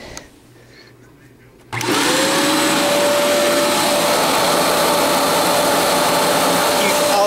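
A Fantom Wildcat vacuum cleaner starts with its brush roll engaged, jumping from quiet room noise to a loud steady roar with a whining tone that rises then holds throughout.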